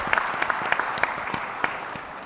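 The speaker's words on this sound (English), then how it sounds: "give yourself a round of applause." Brief round of audience applause at a business leadership conference, a dense wash of many hands clapping at moderate loudness that fades slightly toward the end.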